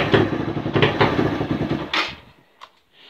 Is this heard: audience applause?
no